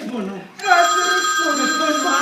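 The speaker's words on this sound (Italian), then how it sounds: "Telefono! Grazie, telefono!" A telephone rings in an Italian stage comedy, a loud continuous electric bell that starts abruptly and keeps ringing under shouting voices.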